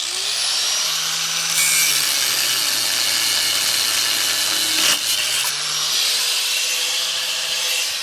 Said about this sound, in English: So let's go ahead now and cut those U-bolts off.